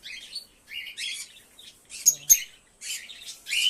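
Small birds chirping in quick, bright bursts close by, with a sharp squawk near the middle and brief pauses between calls.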